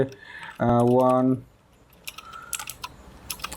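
Typing on a computer keyboard during a web coding session: scattered light key clicks at close range in the second half, following a short stretch of voice.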